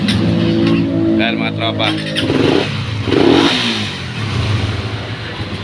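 Suzuki Raider 150 Fi motorcycle with a stalling idle problem starting and revving close by, engine bursts rising and falling under someone speaking.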